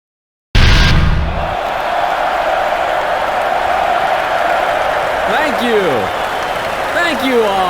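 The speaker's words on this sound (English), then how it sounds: "Thank you for your applause." Steady crowd applause and cheering in a Tekken 4 tournament cutscene fills the scene, broad and sustained, with a few whooping voices rising near the end.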